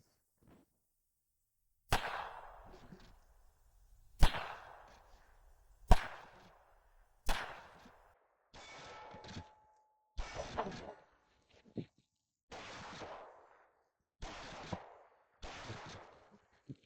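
Gunshots ring out at steel targets during an outdoor Halloween shoot, about nine sharp cracks spaced a second or two apart, each followed by a short metallic ring, with no talking.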